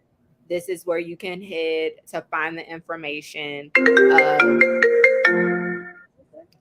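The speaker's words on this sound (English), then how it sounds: "Sorry, that was my phone." A mobile phone ringtone plays a bright, repeating melodic chime for a couple of seconds. It starts right after someone finishes speaking during a recorded conversation about city parking, then fades out.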